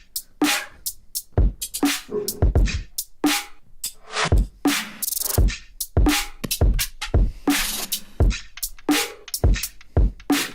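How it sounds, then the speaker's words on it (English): A homemade drum beat made for a beat challenge, with sharp, punchy hits in a quick, steady rhythm and bright cymbal-like splashes, loud and close, playing alone. "I made a cool little drum beat and it sounds like this."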